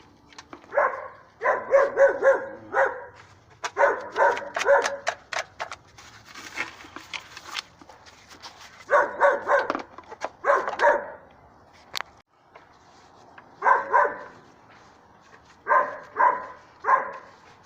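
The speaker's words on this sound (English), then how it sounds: "The damn dog doesn't want to stop barking, just back there barking and barking." A dog barks over and over in clusters of several sharp barks separated by short pauses, fairly close and loud, with no talk.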